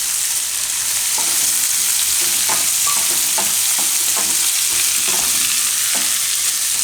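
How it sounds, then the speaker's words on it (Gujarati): Onion with capsicum stirred and fried in a pan for a Gujarati veg American chop suey, with a loud steady sizzle and repeated clinks of a spoon against the pan, no talking. "થોડીક વાર ડુંગળીને આ રીતે ફેરવી એમાં આપણે નાખી દેવું હવે કેપ્સિકમ"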